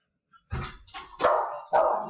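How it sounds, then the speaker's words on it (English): Buddy the dog barks four times in quick, uneven succession, sharp and close, with near silence before the first bark. "It's making Buddy bark"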